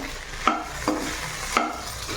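A spoon stirs ladyfinger (okra) and tomato curry in a pan, giving three distinct scraping strokes over a soft, steady sizzle close by, with no voices.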